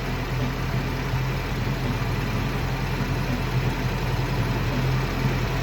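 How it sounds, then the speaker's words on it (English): A Mazdaspeed 3 (Axela MPS) engine idling steadily in a workshop with engine flush circulating, a constant low rumbling hum with no revving, close and alone. "So it's holding a steady idle."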